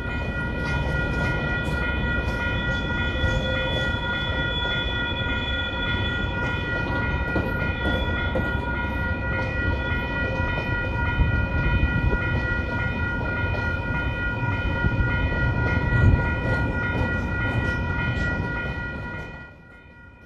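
A KiwiRail DL9515 diesel locomotive departs Mount Maunganui hauling the Kawerau-bound train 373, giving a loud, steady engine rumble with sustained tonal ringing. The sound carries on unbroken before dropping away sharply at the very end.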